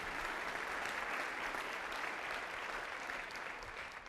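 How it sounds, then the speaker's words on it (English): An audience at the Cleveland State of the Schools event applauds Mayor Jackson, a thick, continuous roar of many hands clapping at once, steady throughout and easing slightly near the end. "We can applaud him again."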